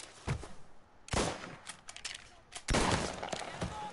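Gunfire in the Mafia video game: three separate sharp bursts of shots spaced a second or two apart, fairly quiet overall, with some faint game sound between them.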